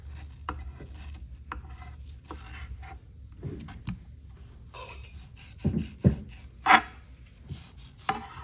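A knife trims the skin off a mango in a cooking class, giving soft scraping and rasping strokes with a few sharper taps on the board, close and unhurried over a low background hum.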